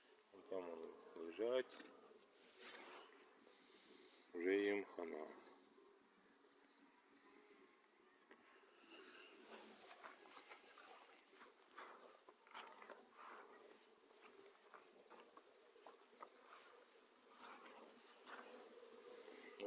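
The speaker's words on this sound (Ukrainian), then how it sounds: "Отак от повзають бджіл, бджолки, які травлені." Poisoned honeybees crawl and buzz around a hive on a warm spring day with plum trees starting to bloom, a steady close insect drone with occasional louder passes near the listener and brief bursts of talk.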